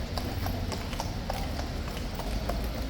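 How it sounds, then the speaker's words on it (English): Horse hooves clip-clop at a steady walking rhythm close by, repeated sharp knocks over a constant background hum of a busy outdoor setting near the King's Guard mounted troopers. "another horse is in front of me, and look at how big it is"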